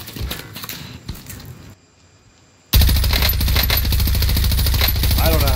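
Rapid automatic AK rifle fire in a battle royale shooter, a dense loud burst of shots that drops out briefly, then resumes as sustained heavy gunfire to the end, with other game sounds beneath.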